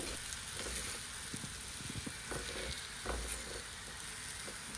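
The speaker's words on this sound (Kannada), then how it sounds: "ಟರ್ನ್ ಮಾಡಿ 2 ಸೈಡ್ ಫ್ರೈ ಮಾಡಿಕೊಳ್ಳಿ." Ragi (finger millet) roti frying in ghee or oil in a pan gives a steady, close sizzle with faint crackles and a few soft scrapes, with no talk.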